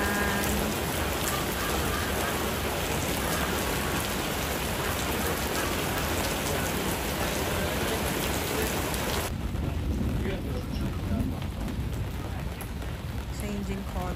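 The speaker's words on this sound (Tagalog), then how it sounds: "Oh, lalong lumalakas ang ulan." Rain near Rama X Bridge in Bangkok grows heavier into a loud, dense, unbroken downpour hissing on surfaces, with a slight shift in tone partway through.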